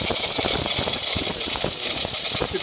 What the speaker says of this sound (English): I'm guessing we're going to get steam.